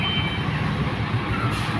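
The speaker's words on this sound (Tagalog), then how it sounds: "So naglalakihan pa rin nga mga sasakyan ang dumadaan dito" Large trucks and heavy vehicles roll past on a road in Dalandanan, Valenzuela City before dawn, a steady broad rumble with engine drone and a brief high beeping tone early on, fairly close and continuous.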